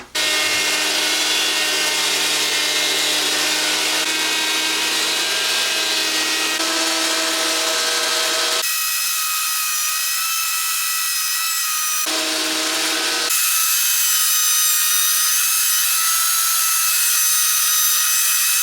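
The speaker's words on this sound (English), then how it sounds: "So we'll just crack on with planing that wood for the top." A power planer machine planes wooden boards for a coffee table top, running with a loud, steady high whine that drops out briefly and restarts, close by with no speech.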